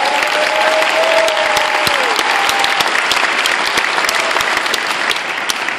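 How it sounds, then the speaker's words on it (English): A conference audience bursts into loud, sustained applause with scattered cheers and a whistle, the clapping dense and continuous throughout. "So please make some noise for yourselves as well."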